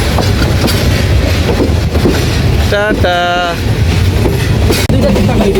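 Passenger train running from Sylhet to Chittagong, a steady loud rattling roar of the carriages continuing throughout, with a brief whistle-like tonal burst partway through and faint voices under the noise.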